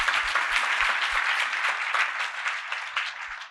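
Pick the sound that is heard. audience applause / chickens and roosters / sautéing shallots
audience applause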